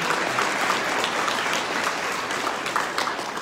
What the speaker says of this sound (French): On peut applaudir ce pôle de communication.